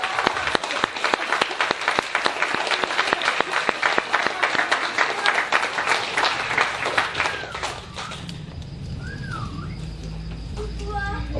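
A church congregation in Taravao, French Polynesia, claps in dense sustained applause during a sermon, fading to scattered claps near the end, with birds chirping and cooing in the background.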